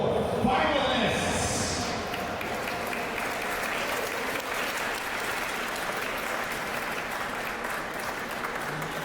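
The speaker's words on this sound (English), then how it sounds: "please give a warm round of applause to your finalists." An audience at the finals of the 2015 JOOLA North American Teams table tennis championship breaks into dense, sustained applause. It is loudest in the first seconds, then settles into steady clapping that lasts throughout.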